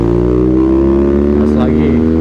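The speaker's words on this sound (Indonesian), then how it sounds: "Engine brake nyobain tuh, engine brake nya gitu langsung suaranya deng." A BMW R nineT motorcycle fitted with a Villan exhaust engine-brakes, giving a loud, close, steady droning exhaust note that slowly falls in pitch, with a voice talking over it.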